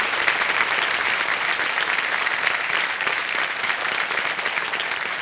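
A studio audience on the Shark Tank India Season 2 set bursts into loud, dense applause. The clapping is sustained and even from start to finish, with no talk above it.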